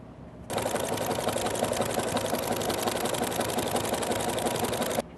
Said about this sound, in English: So I'm just going to sew along this edge with the zigzag to close it up.